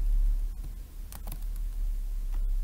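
Faint, sparse keystrokes on a computer keyboard while C++ code is written, a few scattered clicks at a quiet distance over a low steady hum.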